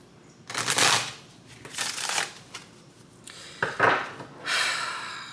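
Tarot cards being shuffled by hand in a quiet room, several separate bursts of riffling and sliding that come and go at close range, with no talk over them.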